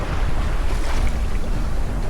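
Steady broadband wash of ocean waves and wind around a sailboat at sea between the Azores and Portugal, loud and continuous with wind buffeting the microphone and no voices.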